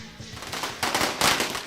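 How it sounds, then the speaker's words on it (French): Firecrackers pop in quick, irregular bursts during a religious procession, the crackling bangs loud and close and swelling in intensity. "puis les pétards"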